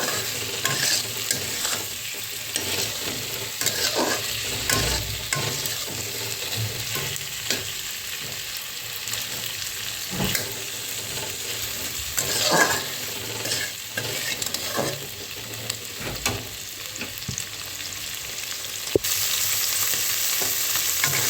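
Potatoes frying in a pan for a restaurant-style spicy potato dish, a steady close sizzle with frequent scraping stir clicks throughout, no voices.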